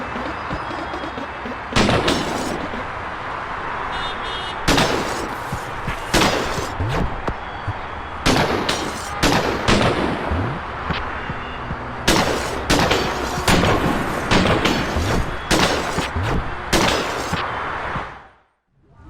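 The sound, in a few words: shotgun shooting a mirror in the video game Lazr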